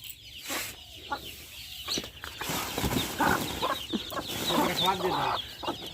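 Chickens kept under a basket covered with polythene against rain, clucking repeatedly at close range in an uneven chatter, with a voice talking softly at times.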